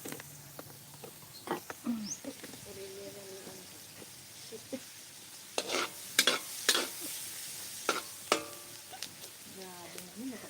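Onion sautéing for turkey caldereta, with crackling sizzle and repeated sharp stirring scrapes against the pan, while voices talk intermittently in the background.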